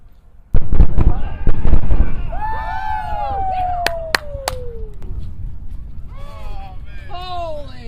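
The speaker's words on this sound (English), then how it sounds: "Sonic boom. Where's the boom?" Deep booming thuds from a Falcon rocket booster landing roll in, with several bursts in quick succession. Excited voices whoop and shout over and after them.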